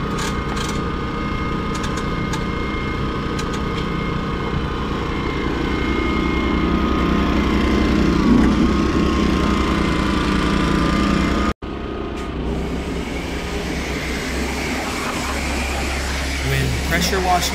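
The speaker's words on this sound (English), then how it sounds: "pressure washing the engine, I'm always sure that I do not direct my pressure washer stream for any longer than a 1 to 2 second duration on any one component." A pressure washer cleans the engine bay of a neglected commuter car, its motor droning steadily with a hissing spray throughout, broken by one abrupt cutoff partway through before the drone resumes.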